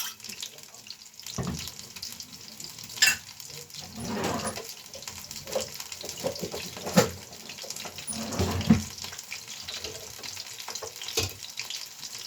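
A sauce mixture for frying chicken is stirred in a pan. A steady sizzle-like wash of sound runs under scattered scraping and clinking from a utensil, close and moderately loud.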